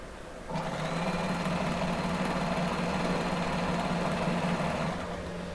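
A sewing machine stitches a saree blouse belt in a quarter-inch seam, starting after a brief pause and running as a steady, loud, even hum for about five seconds, then easing off at the end with no talk.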